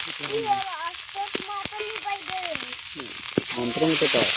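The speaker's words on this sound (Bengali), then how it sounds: "প্রথমে মশলাটাকে একটু ভালো করে ভেজে কষিয়ে নেবেন" Spices with turmeric, chilli and coriander powder frying in a pan for banana flower cutlets, a steady sizzle and stirring heard beneath a voice speaking throughout.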